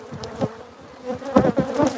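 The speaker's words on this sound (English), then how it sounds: "Sorry about all the bees." Bees buzzing close by, a dense droning hum with individual insects swelling louder as they pass near.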